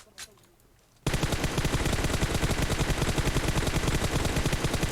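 Continuous, loud automatic gunfire from PUBG Mobile erupts after a brief quiet moment and keeps hammering in a dense rapid rhythm for several seconds, with no one speaking over it.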